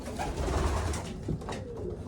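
Pigeons coo softly and repeatedly inside a pigeon loft, a low burbling chorus with several birds overlapping.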